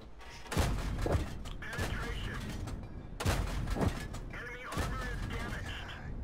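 Repeated loud tank cannon shots and impact thuds in World of Tanks, arriving in a few heavy bursts with rumbling battle noise between them, while someone talks over the action.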